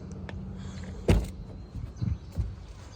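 An Isuzu pickup truck's door is opened with a sharp latch clunk, followed by softer thuds and rustling nearby, with no talking.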